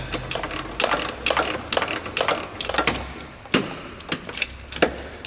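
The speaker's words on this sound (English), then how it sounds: "if we're going to do this last one by hand, I believe I can get a ratchet on it" Ratchet turning a bolt during a clutch replacement on a 2002 Ford Focus: a run of quick, crisp metallic clicks in short uneven bursts, close by and alone.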